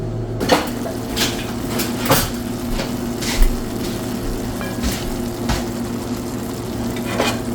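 Metal utensils clink and scrape against a pan as a vegan cheese steak with chili oil cooks, with several sharp clatters over a steady low background.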